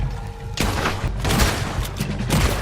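Gunfire rattles in Red Dead Redemption 2, a rapid volley of loud booming shots starting abruptly and continuing in bursts, with heavy close reports and rumbling echoes.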